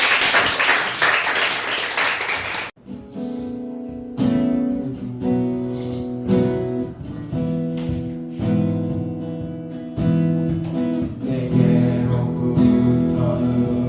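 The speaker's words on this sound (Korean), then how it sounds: "우리 하나님께 영광의 박수 올려드리겠습니다" A church congregation applauds during a Sunday worship service, a short burst of dense clapping for about three seconds that cuts off as music takes over.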